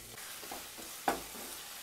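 Chicken and egg sautéing over a high flame for kothu kari, a steady close sizzle with a brief stir or scrape of the pan partway through.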